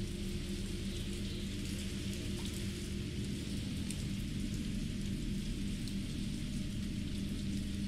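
Steady rain pours in the video game Resident Evil 3, an even, dense hiss of falling drops with a low rumbling bed underneath, continuous and unbroken with no voices.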